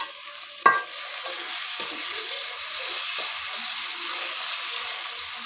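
Chopped onion, crushed garlic and tomato frying in a pan, a steady close hiss of sizzling oil with a sharp clatter of a utensil near the start and soft stirring scrapes throughout.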